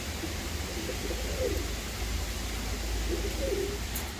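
A pigeon coos softly twice against steady low rumbling background noise outdoors, with no one speaking.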